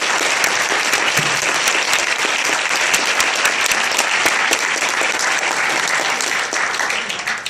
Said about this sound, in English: Can everyone else here just give them a round of applause?